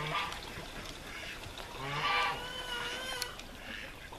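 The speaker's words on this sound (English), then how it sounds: "And it'll get noisy because the birds see me." Noisy birds honk and call repeatedly, a cluster of goose-like cries overlapping at moderate distance against a faint background.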